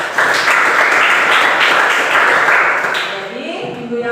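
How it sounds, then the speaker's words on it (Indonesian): Classroom applause from a group of students, a steady burst of clapping that fills the room for about three seconds before fading, with a voice starting to speak as it dies down. "Tepuk tangan."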